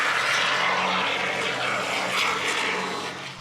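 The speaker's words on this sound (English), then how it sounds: "it also makes a cool sound when it comes out of the can, and it reminds me of whipped cream" Spray foam insulation hisses steadily out of its can during a camper van insulation job, a loud, continuous, airy rush lasting a few seconds with no talking.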